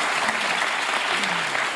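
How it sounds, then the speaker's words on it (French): Studio audience applause for actor Vincent Lindon on a French talk show, a dense, even wash of clapping held at steady loudness throughout the short stretch. "Et on peut applaudir Vincent Lindon qui est avec nous."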